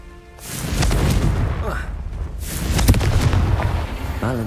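Confringo blasting spell in Hogwarts Legacy: two loud booming fiery blasts with rumbling tails, close and heavy, separated by a brief lull, with a voice talking over the game sounds.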